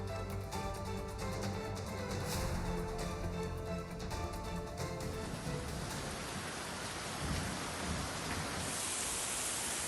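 Heavy monsoon rain falls in Ratnagiri as a dense, continuous hiss, with a faint tonal hum and rattling in the first half before the downpour takes over as an even roar.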